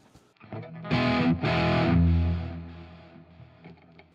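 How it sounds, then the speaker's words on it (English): Distorted electric guitar through a Fender Tone Master Pro with large hall reverb added, playing several loud sustained chords that swell and then decay into a long, spacious reverberant tail. "And let's turn on the Large Hall Reverb"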